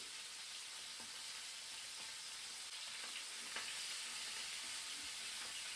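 Rabbit legs frying in a pan: a dense, continuous sizzle that stays even and close throughout, with faint occasional crackles and no voices.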